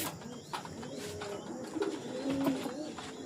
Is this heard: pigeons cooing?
yes